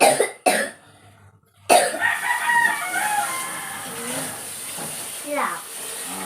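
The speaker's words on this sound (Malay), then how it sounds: "Kamu tengok dia batuk." A few sharp, close coughs in quick succession, followed by a person talking and faint background noise.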